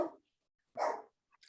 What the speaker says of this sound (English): How come my dogs are barking when you're talking?